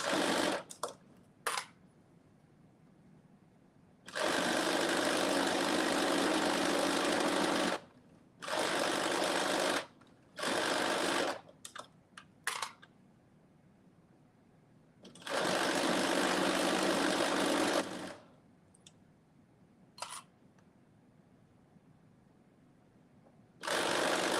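A sewing machine stitching a sleeve seam at a 5/8-inch seam allowance runs in several bursts of rapid whirring. The longer runs last a few seconds each, separated by quiet pauses and a few short clicks.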